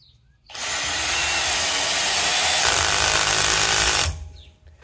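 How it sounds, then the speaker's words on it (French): A cordless drill fitted with a pop rivet attachment sets a rivet in a pre-drilled hole. The motor whirs loudly and steadily for about three and a half seconds, then cuts off abruptly. "Je mets la popeuse dessus et maintenant j'appuie sur le bouton de marche."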